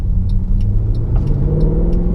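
A Mercedes AMG car engine, in comfort mode, growls loudly up close, a dense low roar building as the car accelerates, with no voices.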